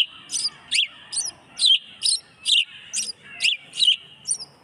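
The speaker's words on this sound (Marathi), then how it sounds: "चिमणीचा हा आवाज आहे" House sparrow chirping in a quick series of about ten bright, evenly spaced chirps, close and clear over a quiet background.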